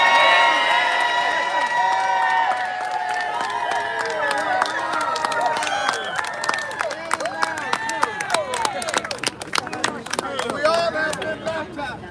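A sizable crowd gathers outside City Hall for a press conference and rally, with overlapping nearby voices and chatter building toward a burst of scattered clapping and cheers near the end.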